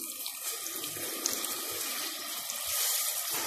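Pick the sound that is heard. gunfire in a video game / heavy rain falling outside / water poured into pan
water poured into pan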